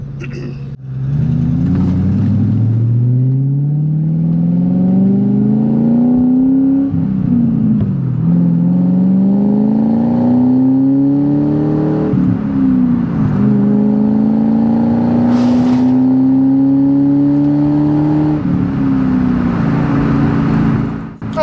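A 2002 Ford Mustang Saleen engine revs up strongly through several gears, pitch climbing then dropping at each shift, loud and close throughout.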